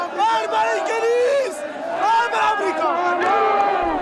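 Crowd of protesters in Tehran chanting anti-American and anti-Israeli slogans, a dense mass of raised voices shouting in rhythmic waves, loud and close, with overlapping cries throughout.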